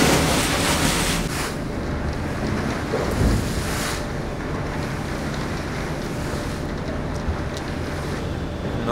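Surf and sea wash at the mouth of Milford Sound fjord, a steady broadband roar mixed with wind buffeting the microphone, continuous and fairly loud throughout, with no voices.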